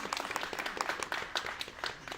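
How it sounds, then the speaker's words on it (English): An audience at a blockchain panel discussion applauds a panelist with a few seconds of dense, moderately loud clapping. "I'm so glad everybody's getting clapped for as we pass the microphone down."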